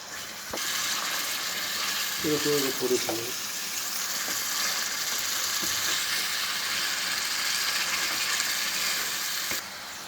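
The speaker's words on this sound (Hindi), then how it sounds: "हल्की सी इसकी फिर से भुनाई करेंगे" Potatoes and peas fry again in a pan for aloo matar, giving a steady close hiss and sizzle that runs almost the whole time, with a few brief stirring clatters near the start.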